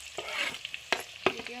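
Onions fry in hot oil in a pan for a local chicken curry, a soft sizzle broken by several sharp clacks of a spoon stirring against the pot.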